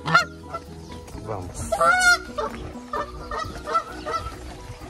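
A mute swan calls near its large nest, loud nasal honking bursts over a busy background of other birds, close to the listener, with a voice briefly speaking.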